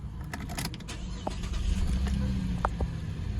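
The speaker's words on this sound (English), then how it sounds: "Start the car up." A 2014 Holden Commodore SV6 Storm automatic starting up: a few light clicks, then a low engine rumble that swells and settles into a steady idle close by.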